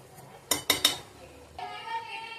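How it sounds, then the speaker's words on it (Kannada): A metal spoon knocks three sharp times against a pot of country chicken curry as salt goes in, followed by softer scraping as the spoon stirs. "ಉಪ್ಪು ಹಾಕಿ ಚೆನ್ನಾಗಿ ತಿರುಗಿಸಿ"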